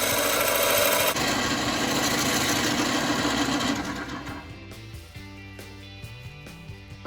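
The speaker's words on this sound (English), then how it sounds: "right now I'm gonna hollow it out" A wood and resin vessel is hollowed out with a loud, steady buzzing and rasping cut that runs for several seconds, then drops away to quieter intermittent scraping.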